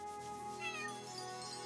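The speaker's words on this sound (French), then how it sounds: "Non, ça c'est le chat encore." A cat in the video game Chained Echoes gives one short, high meow partway through, over steady, sustained in-game music.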